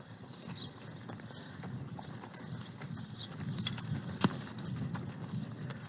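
Horses on a ranch trail ride walk with soft, faint hoof clops under a steady outdoor background, a sharper knock sounding near the end.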